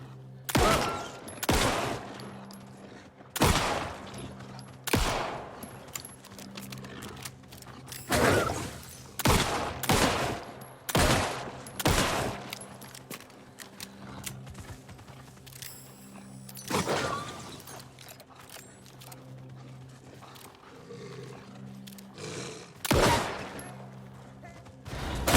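Repeated bursts of gunfire in the survival horror game Alan Wake 2, loud shots in irregular clusters with mechanical clicks and creaks between them over a low steady game hum.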